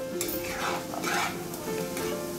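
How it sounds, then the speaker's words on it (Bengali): Capsicum with salt and turmeric sizzles in a pan for flattened-rice pilaf, while a utensil stirs it with soft scraping strokes over a steady, close frying hiss. "তারপর ভালোভাবে নাড়িয়ে নিয়ে একটু ভাজা ভাজা হওয়া পর্যন্ত অপেক্ষা করলাম"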